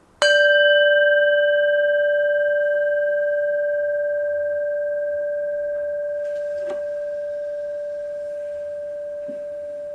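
A bell is struck once with a striker, giving a sharp attack and then a clear, pure ringing tone that sustains and slowly fades over ten seconds, alone in a quiet room.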